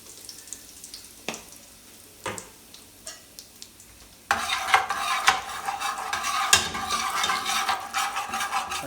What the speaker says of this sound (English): So we have some oil heating. We're gonna add some curry. This method is called burning the curry.